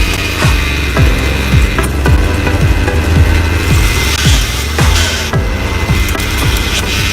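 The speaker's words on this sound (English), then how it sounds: "Firewood is perfectly split every time by a descending arm with evenly divided chop" A firewood splitter's descending arm with evenly divided chop blades drives through wood again and again. Sharp cracks and thuds land at a regular rhythm over a steady mechanical drone, close and loud.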